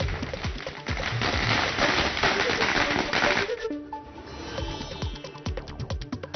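MNS party workers set off a long string of firecrackers at a street celebration, producing dense rapid crackling bursts that thin into separate sharp pops toward the end.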